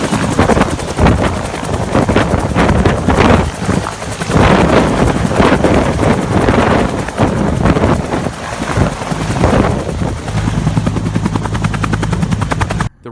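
A propeller helicopter engine running loud and close with a dense rotor thrum and turbine roar, steady throughout as it starts up and takes off, with wind buffeting the microphone.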